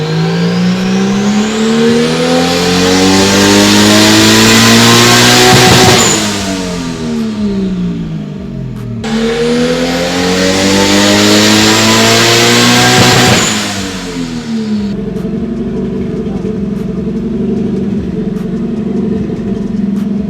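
A turbocharged RB20DET engine in a Nissan 240sx running E85 revs hard on a dyno, loud and close, climbing through two long full-throttle pulls with rising whine and harmonics, each dropping back to a rumbling idle.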